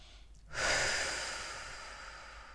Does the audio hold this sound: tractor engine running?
no